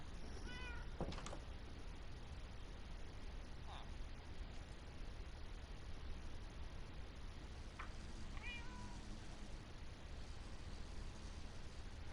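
A cat in the video game Minecraft gives a few short, faint meows over a steady hiss of background noise, with soft game sounds scattered around.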